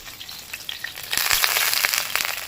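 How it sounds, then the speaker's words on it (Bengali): Papaya, beans and carrots frying in a pan for a milk-based shukto, a soft sizzle that swells suddenly into a loud, steady crackle halfway through, close up with no voices. "এবার এটাকে ভালো করে একটুখানি ভেজে নেবো"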